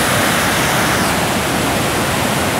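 Cachoeira da Chave waterfall in Votorantim, a loud, constant rushing of heavy falling water close by, filling the whole stretch as a dense, unbroken roar with no speech.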